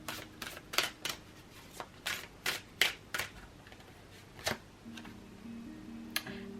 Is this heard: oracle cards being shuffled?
yes